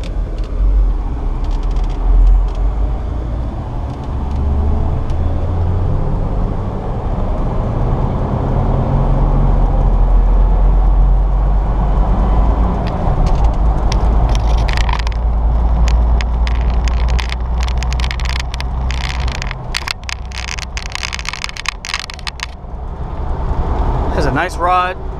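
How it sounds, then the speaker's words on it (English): A lifted 2003 Jeep Wrangler on the road, heard from inside as a steady low engine and tire rumble under continuous talking, with a brief clattering rattle near the end. "feels like you're driving a lifted Jeep. I love the way these vehicles drive."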